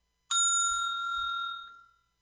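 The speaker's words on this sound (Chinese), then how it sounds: "当听到铃声" A single bell chime sounds out alone as the cue for candidates to move to the next exam station, striking sharply and then ringing on with a bright tone that fades away over about two seconds.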